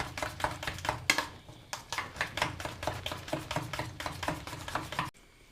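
A utensil beats eggs briskly in a bowl for a masala omelette, producing rapid, steady clicking taps close by for about five seconds before stopping abruptly.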